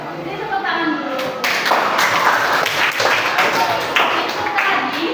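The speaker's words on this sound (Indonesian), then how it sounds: "Ini tepuk tangan dulu." Students in a classroom clapping their hands together, a dense burst of applause-like claps from a group, with voices mixed in under the clapping.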